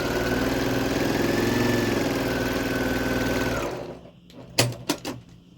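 A sewing machine runs fast and steady while stitching quilt fabric pieces together, then stops abruptly near the end, followed by a few sharp clicks and handling knocks.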